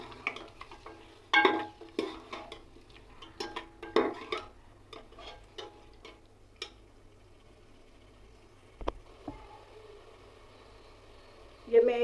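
Cubed taro root (arbi) stir-fried in a pan for a tangy gravy, with scattered clinks and scrapes of a spoon against the pan over a soft background sizzle, busier at first and then sparser.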